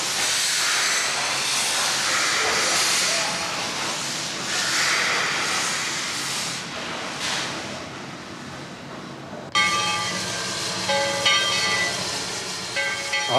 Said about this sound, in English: it has sounds that, starting with very young children, they can emulate those sounds and identify with a steam engine